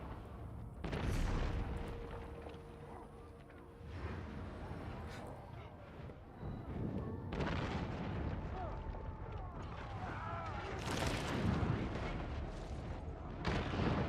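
Bombs in a video game go off in several separate booming blasts, roughly four heavy bursts spaced a few seconds apart, with rumbling noise and a voice between them.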